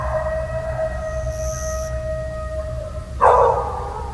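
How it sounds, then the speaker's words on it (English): Dogs howling at night outdoors in a field recording: long sustained tonal wails hold steady, then break into a louder, rougher burst near the end over a constant low background rumble. "It set the dogs off too"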